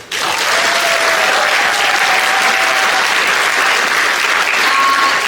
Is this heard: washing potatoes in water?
no